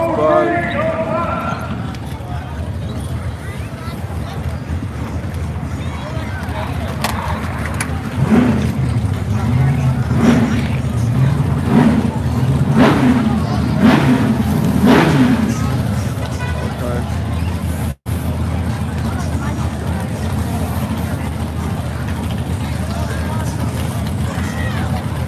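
A Chevy S10 and a Mustang run at a drag strip, engines roaring and rising in pitch mid-clip over steady crowd babble and talk.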